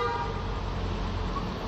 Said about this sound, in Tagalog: yung dual horn niya guys